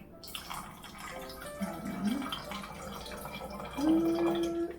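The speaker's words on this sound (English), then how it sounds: "pour the water" Water poured into a container during a whirlwind craft activity in a kids' Sunday school class: a soft, faint trickle with rising gurgles toward the end, quiet room tone around it, no voices.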